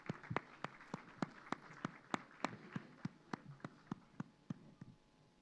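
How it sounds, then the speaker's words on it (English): Audience claps at a formal dialogue conference session in Bodh Gaya, sounding as a steady, evenly spaced run of sharp handclaps, fairly quiet and without talk over it. "Please give them a round of applause."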